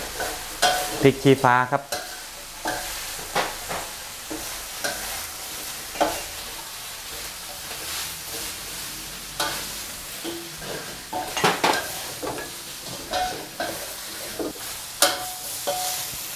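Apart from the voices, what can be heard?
stir-frying fried catfish in a wok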